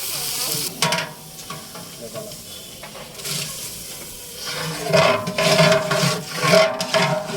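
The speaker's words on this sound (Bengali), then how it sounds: "পেঁয়াজটা তেলে ভালোভাবে নাড়াচাড়া করা হচ্ছে দিয়ে দিয়েছে কাঁচা মরিচ আর আগে থেকে রেডি করে রাখা মশলা" Onion with green chillies and ready-mixed spices stirs and fries in oil in a large wedding cookery pot, a steady sizzle with scraping stir strokes that grow louder toward the end, no talk.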